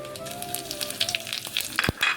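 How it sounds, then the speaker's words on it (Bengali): Whole cloves, cardamom, dried red chillies, cinnamon, panch phoron, cumin and bay leaves frying in hot mustard oil, a soft steady crackling sizzle with scattered pops and a few light clinks of a stirring utensil. "তেল গরম হয়ে গেছে, ফোড়নে দিয়ে দিয়েছি লং, এলাচ, শুকনো লঙ্কা, দারচিনি, পাঁচফোড়ন, জিরে আর তেজপাতা।"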